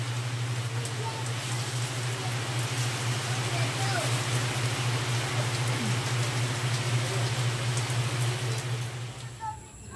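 Steady rain keeps falling over a farm plot, a dense, even wash of patter with a low constant hum underneath, lasting unbroken throughout.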